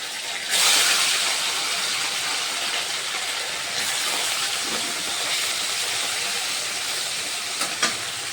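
Soybean chunks coated in cornflour hiss and sizzle in hot oil with a loud, steady, broadband crackle that surges sharply near the start, then holds a constant roar throughout.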